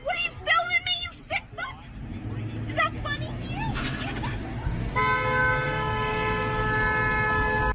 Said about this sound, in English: she was clearly in hot pursuit, like some Mad Max shit, honking that horn, coming in hot.